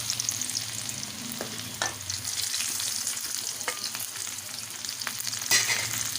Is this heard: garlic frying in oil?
yes